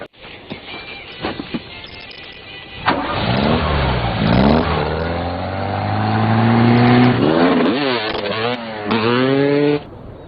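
A car engine revs hard as the stolen vehicle speeds away, with loud rising and falling pitch sweeps as it accelerates through the gears. The sound is close and dominant, with no talk over it.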